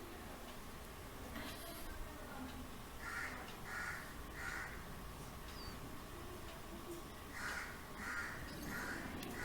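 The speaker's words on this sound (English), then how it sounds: "You might be hearing some bird song, guys." Crows caw from trees outdoors in two bursts of three or four harsh calls each, faint and distant, over a low background hiss.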